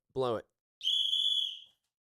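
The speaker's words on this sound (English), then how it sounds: "Blow it. 1, 2, whistle." A short spoken word, a brief pause, then a single loud, steady whistle blast lasting about a second in a live studio show, near and clear.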